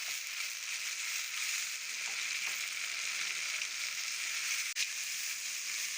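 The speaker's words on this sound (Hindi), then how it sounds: "टमाटर को अच्छी तरह से भूनेंगे" Tomatoes fry with browned onions for aloo karahi, a soft, even sizzle running throughout, fairly quiet, with one brief knock of a utensil near the end.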